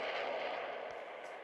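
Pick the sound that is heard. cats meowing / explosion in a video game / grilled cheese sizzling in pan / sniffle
explosion in a video game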